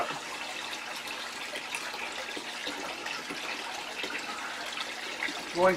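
Water runs steadily in a soft, continuous trickle during a partial aquarium water change, faint and close, with no voices, ending in a brief louder gurgle.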